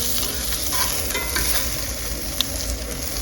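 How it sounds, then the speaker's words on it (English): Fennel and chopped garlic sizzle and brown in a hot pan, a steady dense frying hiss with stirring clatter throughout and one brief sharp tap near the end. "with some fennel, some chopped garlic, and we're just going to get this browned up."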